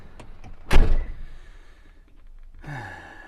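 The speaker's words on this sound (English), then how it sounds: "Shut the door." A car door slams shut once with a loud, close thud, followed by muffled interior rustling and then a short rising mechanical whir inside the car.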